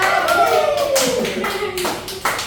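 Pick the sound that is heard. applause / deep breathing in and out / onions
applause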